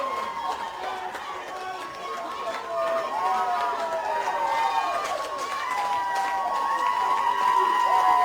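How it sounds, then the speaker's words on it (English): Supporters at Windsor Sporting Complex cheering and applauding a Vic Uni Secondary College try at a schoolboy rugby league match, a loud sustained crowd roar that swells toward the end beneath a commentator's voice. "Great applause for the Vic Uni Secondary College here at Windsor Sporting Complex"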